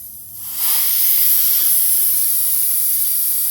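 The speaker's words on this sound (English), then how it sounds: "Now we're venting the vapor" Propane vapor venting from a small green tank with a loosened fitting. A sharp hiss starts abruptly and then holds steady and loud, close up.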